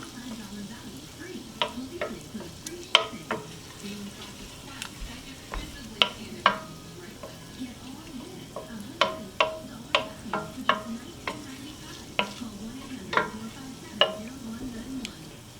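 Butter melts and sizzles in a pan on a stove set to medium, giving a soft steady fizz broken by sharp, irregular crackles and pops.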